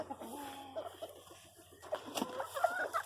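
A McClanahan-bloodline gamefowl hen gives a run of clucks and squawky calls at close range, quieter in the middle and denser and louder toward the end.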